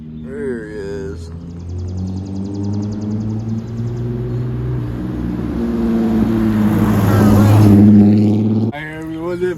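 An Infiniti car pulls up close by, its engine a steady low drone with a deep exhaust rumble that swells louder toward the end before cutting off, while people talk over it at the start and finish.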